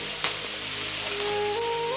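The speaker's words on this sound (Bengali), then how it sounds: "ভাত ভাজা" Rice frying in a pan at home gives a steady, soft continuous sizzle throughout, with a faint tap near the start and a thin tonal whine rising in the background.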